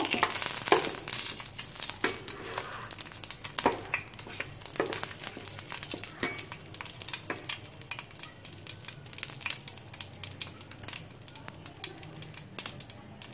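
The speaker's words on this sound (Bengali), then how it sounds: "তেল গরম হয়ে গিয়েছে, এখন আমি এর মধ্যে তেজপাতা দিয়ে দেব।" Bay leaves sizzle in hot oil for a mixed vegetable niramish sabji, a continuous crackling fry with sharp pops and spatters scattered across, loud at first and then settling to a steady hiss.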